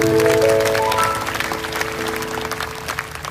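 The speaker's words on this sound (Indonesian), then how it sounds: "Beri tepuk tangan untuk Tuhan Yesus." Congregation at a Pentecost church service in Kuching, Sarawak applauding over sustained keyboard chords, loud at first then tapering into scattered claps.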